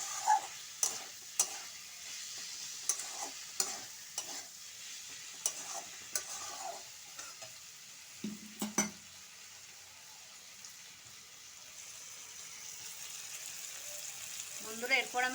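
Minced meat frying in hot oil for a chana dal and keema dish, with a steady sizzle under repeated scraping and clinking as a spatula stirs it around the pan, close and moderately loud.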